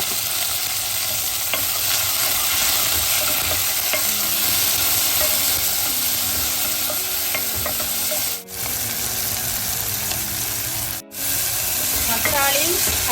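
Tomato and curry chilli sizzle steadily in a hot pan while being stirred, a loud, continuous frying hiss close by that cuts out briefly twice.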